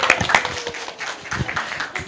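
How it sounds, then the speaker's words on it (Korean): Audience applause at a church Sunday-school teachers' seminar: a short burst of scattered hand clapping from a room of people, fairly close and moderately loud. "지금 우리 박수로 공유해 주시겠어요?"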